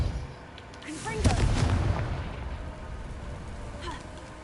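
A Confringo spell cast in the video game Hogwarts Legacy, a single fiery blast with a swelling boom and crackle that fades, followed later by a fainter second burst, with brief game voices.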